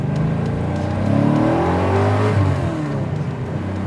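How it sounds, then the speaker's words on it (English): LS V8-powered Nissan 240sx with a CD009 350Z gearbox revving hard during a no-lift shift, a loud, close engine roar whose pitch sweeps up and dips briefly mid-shift, with no talking. "for now he insisted I try some no lift shifts."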